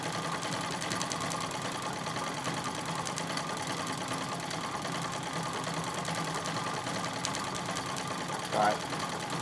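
A Singer 66 treadle sewing machine doing free motion quilting makes a continuous, steady rapid needle clatter throughout, close and even, with a brief bump near the end.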